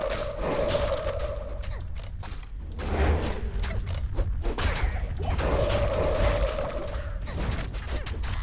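Corpse Explosion spell in the Diablo 2 video game, cast by a necromancer with skeletons, bursting in repeated heavy crashes and thuds amid rumbling mechanical game effects, loud and without talk.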